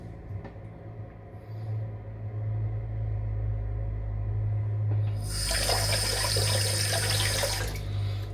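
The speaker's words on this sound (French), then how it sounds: "rinçage à l'eau froide" A tap runs cold rinse water, starting as a low flow and then splashing loudly and hissing into a sink for several seconds, close by and with no talk.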